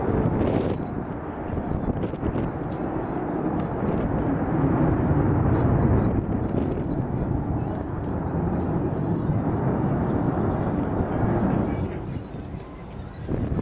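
Avro Vulcan bomber XH558 performs at the 2015 Throckmorton air show, a steady broad jet roar lasting throughout with heavy wind buffeting on the microphone and a voice talking over it.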